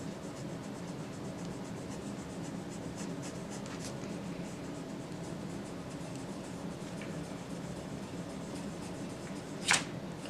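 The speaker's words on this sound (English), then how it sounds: "you can just blend this with your finger." Pastel being blended on paper with a finger, a steady soft rubbing and scraping that runs continuously at close range, quiet, with one brief sharp tap near the end.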